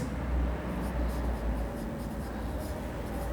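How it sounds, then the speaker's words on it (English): Pen or chalk scratches steadily by hand while working a class five maths problem in a lesson, with soft continuous strokes and faint taps. "So here you write"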